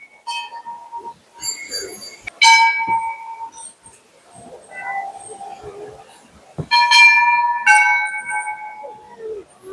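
Small temple bells ringing at Muktinath Temple, bright metallic strikes in two separate bursts, each with long shimmering overlapping tones that fade between clusters, loud and close with no talk.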